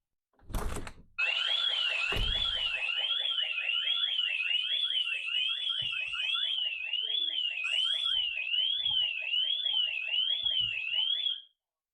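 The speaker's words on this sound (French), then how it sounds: "L'alarme devrait donc sonner directement." After a door thud, a Ring home security alarm wails loudly and continuously, a fast warbling siren tone sounding for about ten seconds before cutting off.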